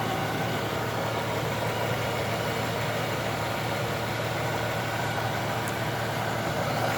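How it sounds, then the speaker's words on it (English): A Jeep YJ more than thirty years old idling with its engine warm: a steady, even rumble with no changes in revs, heard close up throughout. No one talks. "now that it's been running, here it is at idle"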